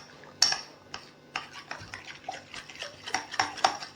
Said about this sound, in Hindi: मैंने तमाम चीज़ों को अच्छे तरीके से मिक्स कर दिया है